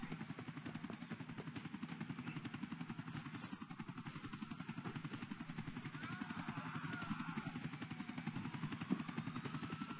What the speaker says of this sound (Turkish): Yani şu helikopter çok fena ya.